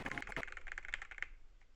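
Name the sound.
computer keyboard typing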